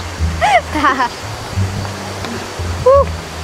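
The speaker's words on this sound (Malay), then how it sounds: "So, itulah air terjun ni." A waterfall gives a steady rush of falling water, with people talking and exclaiming over the constant roar.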